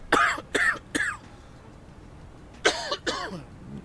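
Several harsh coughs up close: three in quick succession, a pause, then two more, during Euro Truck Simulator 2 gameplay.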